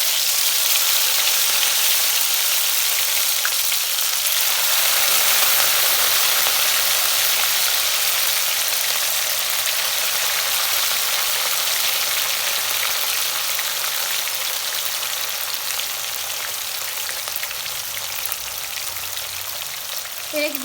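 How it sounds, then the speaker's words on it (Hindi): Fish slides into smoking-hot mustard oil and fries with a loud, continuous, close sizzle and crackle that holds steady for the whole stretch, with no talking. "तेल गरम हो गए हैं, खूब बढ़िया सा धुआं निकला लगले हैं। तखन एमे माछ खसा देबे।"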